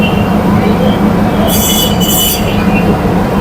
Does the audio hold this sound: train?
yes